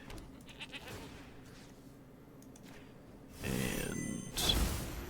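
A goat bleats as a sound effect in a card video game, a bright bleat rising near the end over a low background bed, with a sharp chime-like accent at the close.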